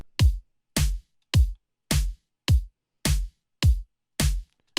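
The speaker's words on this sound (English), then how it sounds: "this top layer of drums I have here is just kind of like a drum thing that I made" A producer-made electronic drum loop: eight evenly spaced, punchy hits with deep low thump and crisp high top, repeating in a steady rhythm, close and alone.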